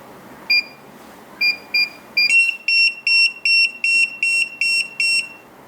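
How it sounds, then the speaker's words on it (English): A series of sharp electronic beeps from a TD162 paging system, a few spaced ones followed by a faster run of about eight evenly repeated tones, loud and close over a faint background hiss. "As you can see, only beep,"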